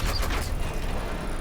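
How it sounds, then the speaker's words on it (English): Drawbridge mechanism in the ARK video game grinding open or shut, a steady low mechanical rumble with faint creaking and ratcheting running through the whole stretch, no voices. "Bridge is pretty good. You can hear it whenever it opens and closes."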